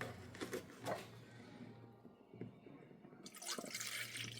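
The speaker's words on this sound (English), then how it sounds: "let's put some milk in here" Milk pours into a bowl in a home kitchen, with a soft liquid splash and trickle that fades into quiet, then a brighter rush of pouring near the end, heard close and moderately loud.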